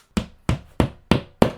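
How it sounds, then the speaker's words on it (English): Five sharp, evenly spaced hammer blows drive a plastic drywall anchor into a bathroom wall for mirror mounting, each a close, crisp knock about a third of a second apart. "now we're gonna hammer this in, and you want it basically flush with the drywall"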